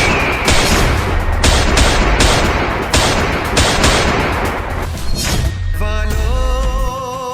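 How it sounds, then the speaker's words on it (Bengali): Gunfire aimed at a zombie comes in loud, rapid bursts that merge into a continuous close volley for about five seconds, then cuts off, leaving a ringing tail. "হ্যাঁ আইডিয়া, গুলি মারো।"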